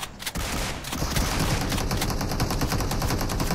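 Sustained automatic gunfire in the mobile battle royale game BGMI during a tournament fight, dense rapid shots firing nonstop, loud and close after a brief quieter start.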